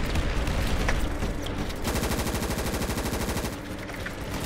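Sustained automatic gunfire from a modded Ravenfield battle hammers in a rapid, unbroken burst, pauses briefly, then resumes with another long stream of shots, loud and close.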